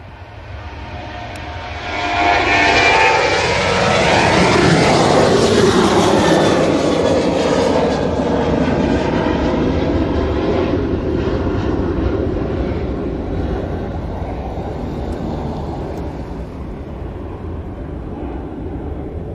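An aircraft passes at East Midlands Airport, its engine roar swelling from a distant rumble to a loud, broad, sweeping drone that lingers and slowly fades over nearly twenty seconds.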